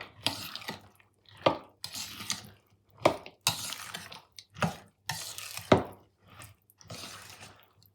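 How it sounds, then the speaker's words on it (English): Dried fruit being stirred into fruitcake batter, a series of soft thick squelches and clinks of a spoon against the bowl, about eight separate strokes in a steady rhythm, close and quiet. "And then we'll put our 200 grams of dried fruit going in. Give that a wee mix."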